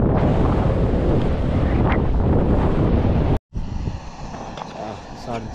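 Strong gusting wind roars across the microphone on the Snowdon summit in winter, a loud, continuous buffeting that cuts out abruptly for a moment and then resumes slightly lighter.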